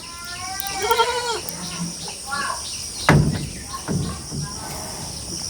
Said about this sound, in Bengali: আর এই গাভীর বাচ্চা এটা।